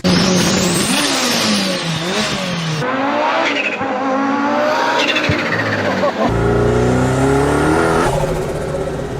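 A turbocharged Mini Cooper fitted with a Forge Motorsports intake hardpipe revs hard, its turbo spooling with rising whistles and the blow-off valve releasing in sharp bursts, loud and close, repeating over several throttle pulls with no talk.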